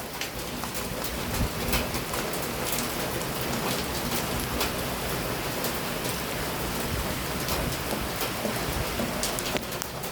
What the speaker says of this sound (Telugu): చూడండి వాన వస్తే ఎట్లా ఉంటుందో